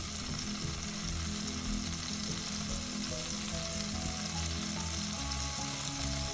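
Ginger pieces frying in oil for a fish curry with brinjal, lauki and coconut milk, a steady close hiss and crackle that holds unbroken throughout without any voices.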